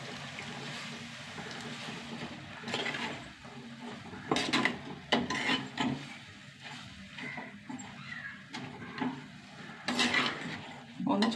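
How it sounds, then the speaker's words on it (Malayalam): Curd poured into a pan of coconut-paste curry and stirred, with soft scraping and clinks of a spoon against the pan over a steady low kitchen hum, a few louder knocks standing out. "നമ്മുടെ തൈര് ഒഴിച്ച് കൊടുക്കട്ടെ."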